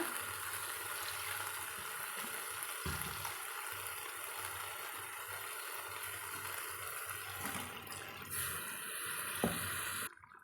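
Water is poured into a simmering brinjal curry and mixed, a continuous wet hiss and bubbling with soft stirring sounds and a few knocks near the end, close and without talk.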